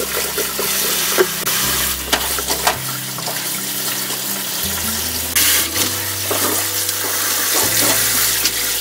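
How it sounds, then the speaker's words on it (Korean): Blanched young radish greens are washed by hand in water under a running tap, with steady splashing and swishing, some louder sloshes, and a low background hum throughout. "데친 열무를 씻어봅니다."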